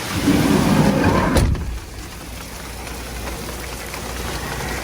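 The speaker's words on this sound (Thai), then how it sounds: "อยู่กับบรรยากาศฝนตกครับทุกคน" Steady rain patters on a parked camper van, a dense hiss that is louder at first, then drops after a brief crackle and settles into a softer, even wash.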